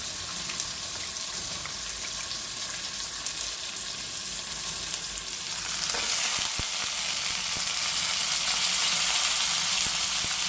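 Bitter gourd fries in oil in a pan for a curry, giving a steady, close sizzle that grows louder and brighter about halfway through, with a few faint taps of stirring and no speech.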